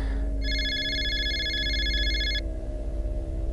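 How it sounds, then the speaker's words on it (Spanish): A telephone rings once with a steady electronic tone lasting about two seconds over a constant low background hum. "Sonó el teléfono."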